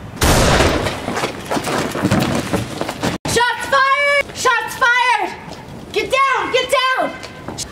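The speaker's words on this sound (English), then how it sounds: "We have shots fired." Gunshots ring out in a tense police scene, a dense burst of loud, overlapping shots followed by a single sharp crack, then shouting voices cut in with urgent speech.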